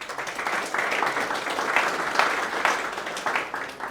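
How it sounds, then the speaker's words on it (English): Applause for the winners at an AgriTech AI hackathon demo day, a moderate, continuous clapping from the audience with slight swells and no talking over it. "Let's put our hands together for the winners first."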